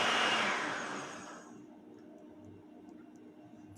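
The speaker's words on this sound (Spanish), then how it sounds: "esperar que pase el sonido de la licuadora" A kitchen blender whirs loudly at first, a dense broadband roar that fades over about a second and a half into a low residual hum with faint ticking, no voices present.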